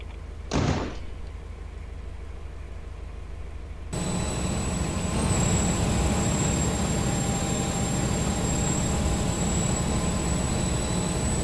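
A Class 43 HST train in the Roblox game Stepford County Railway runs steadily, a continuous engine drone with a high whine that starts abruptly after a brief sharp knock and quieter hum.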